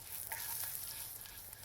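Garlic sizzles steadily while searing in an aluminum pan, a continuous hissing crackle with no talk.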